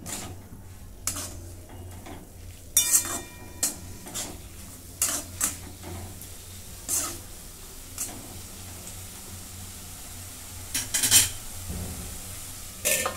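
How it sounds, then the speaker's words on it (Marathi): Spiced red bean pod vegetable stirred in a pan, with repeated spoon clinks and scrapes against metal over a faint sizzle, spaced out across the stretch with no speech. "पुन्हा एकदा सगळं मिक्स करून घेते."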